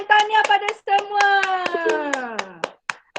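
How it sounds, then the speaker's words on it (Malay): Rhythmic group hand clapping from an online Year 3 science class, sharp claps in quick bursts over a sustained sung or chanted voice that glides downward, ending with a few scattered final claps. "Tepuk tangan."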